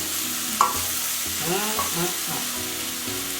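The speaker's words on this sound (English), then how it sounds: "I want to leave the onions here sauteing in this" Onions sautéing in melted butter in a pan over low heat, a steady soft sizzle with a couple of stirring scrapes and clinks, close and continuous without speech.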